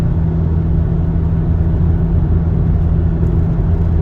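A Volkswagen GTI MkV cruising at night in fifth gear, its steady mid-pitched engine drone and intake hum continuous and close, with no change in pitch or revving.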